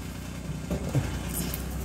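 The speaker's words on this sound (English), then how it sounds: "they deliver water like this in little trucks" A small water delivery truck's engine rumbles low and steady as it arrives, a medium idling drone with faint clunks on top.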